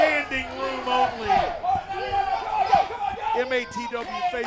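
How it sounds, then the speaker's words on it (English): A packed Mid-Atlantic Territory Wrestling TV audience boos a wrestler, loud massed voices rolling in uneven surges, with individual shouts rising above the din and some talk mixed in. "They don't even know anything about the man yet, and they're booing him already."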